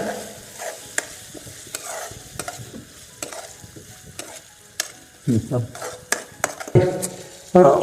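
Tomatoes fry in a pan for a Nellore-style fish curry with tamarind, a soft sizzle broken by repeated spoon scrapes and knocks against the vessel, growing louder toward the end.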